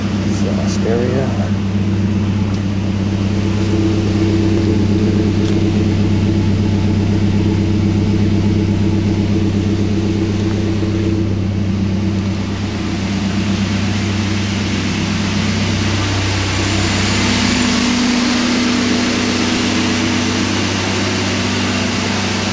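Engine of a 1997 Toyota 4Runner with cold air intake and cat-back exhaust, a steady low droning hum at idle, loud and close, shifting in tone toward the end, with talking over it.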